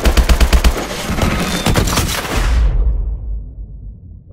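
Automatic gunfire in the video game Call of Duty: Advanced Warfare, rapid loud bursts of rifle fire up front, then a heavy rumbling blast that fades out into silence.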